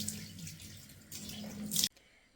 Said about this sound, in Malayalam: മുഖം ഒന്ന് കഴുകിയിട്ട് പോവാണ്